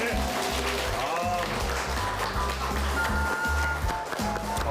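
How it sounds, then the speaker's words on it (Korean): Audience applause after a health lecture by a Korean medicine doctor, clapping from the crowd running continuously beneath loud music and voices. "정말 박수가 끊이지가 않네요."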